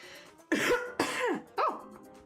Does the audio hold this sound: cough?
yes